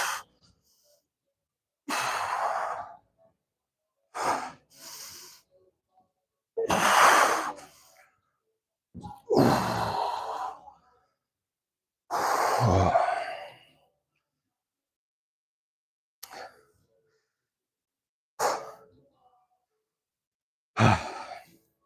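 Slow deep breathing exercise with long audible inhales and exhales, some sigh-like, repeated in separated bursts with silent pauses between, close and clear, gradually shorter toward the end.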